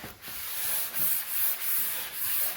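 Steady back-and-forth scrubbing on a hallway floor, close and fairly loud, in a rhythmic series of hissing strokes with no talking.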